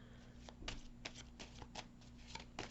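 Tarot cards being shuffled by hand, a quick run of soft riffling flicks and taps, close but faint, with no talking.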